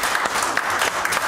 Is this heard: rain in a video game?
no